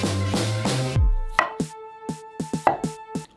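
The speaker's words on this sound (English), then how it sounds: "I'm just gonna make these a little bit smaller, either halve them or quarter them" Kitchen knife halving and quartering broccoli florets on a cutting board: about eight sharp, close chopping taps in an uneven rhythm, heard alone after a short stretch of louder rustling and board handling.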